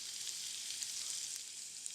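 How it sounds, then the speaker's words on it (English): Garlic and cumin seeds sizzle in hot oil in a pan, a steady, fine, crackling hiss heard close up with no talking. "Yep, that's a hot pan. I can hear that sizzle."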